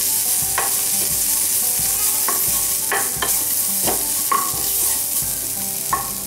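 Onions sizzling in a pan as turmeric and chili powder are stirred in for poori masala, with steady loud frying hiss and intermittent scrapes of a spoon against the pan, no voices.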